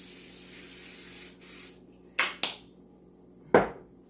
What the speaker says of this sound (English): The pan is getting a little sad looking. I'm going to spray it